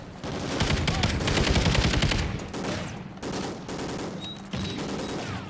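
Rapid automatic gunfire rattles in Call of Duty Ghosts: dense, loud bursts of shots with brief gaps between volleys, up close and with no talking over them.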